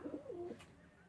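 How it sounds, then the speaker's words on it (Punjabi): Pigeons coo once in a short, close, low warbling call that rises and falls, with quiet air around it afterward. "ਇਹ ਆ ਕਬੂਤਰ ਹਲੇ ਬਾਜੀ ਉੱਪਰ ਵੀ ਉੱਡ ਰਹੇ ਆ"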